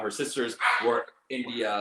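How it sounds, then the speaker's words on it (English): A dog barks in the background of a home while a person talks over it, the short yapping barks mixing with the speech through most of the moment before a brief pause. "That's my dog barking in the background."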